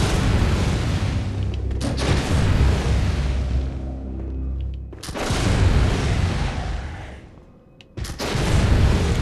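Gunfire in the video game Bloodborne: loud booming shots with long rumbling tails, several bursts separated by short quieter gaps.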